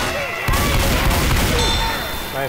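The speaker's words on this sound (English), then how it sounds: "You rang the bell and you won the prize of more zombies." A bell clangs in the zombie shooter Left 4 Dead 2 with ringing metallic tones over a dense bed of gunfire and crashes, loud and busy throughout.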